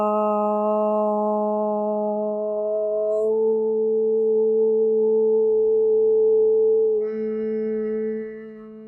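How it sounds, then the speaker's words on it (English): A single low voice holds one long chanted Om, a steady humming tone that shifts pitch twice as the syllable changes, heard alone without talk. "these 3 sounds, together we call it Om sound"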